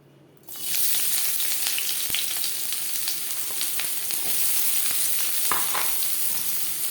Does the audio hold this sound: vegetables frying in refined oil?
yes